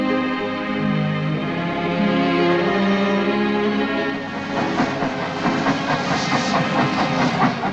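An old locomotive train runs along an Isle of Wight railway, a steady rumble with clattering wheel rhythm that grows busier and more textured partway through, heard alone without talk.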